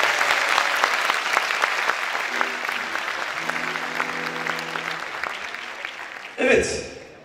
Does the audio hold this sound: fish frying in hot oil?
no